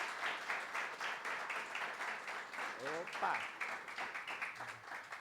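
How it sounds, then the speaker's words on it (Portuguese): Audience applause following a talk at a church workshop, broad steady clapping throughout at moderate level, with a brief voice calling out over it midway. "Uma salva de palmas."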